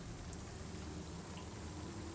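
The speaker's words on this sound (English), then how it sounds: "just the sound of the rain pitter-pattering down eternally." Rain patters down onto forest treetops as a faint, even, unbroken wash of ambient rainfall with no distinct drops or thunder standing out.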